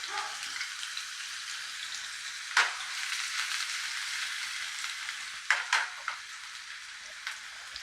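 Cut vegetables frying and sizzling in hot oil for a ridge gourd and raw prawn curry, a steady close hiss with a few sharper spits and pops scattered through.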